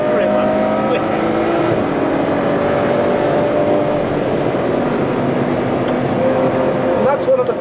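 Ferrari 812 Superfast V12 roaring at speed while chasing a Ford GT, a loud sustained engine drone with shifting pitch and wind rush, heard from inside the car while people talk over it.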